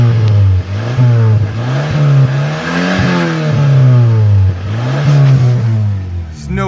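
A 1988 Honda CRX engine with around 300,000 miles, recently overheated, revs loudly up and down several times at close range, its tone rising and falling in repeated swells over a steady idle.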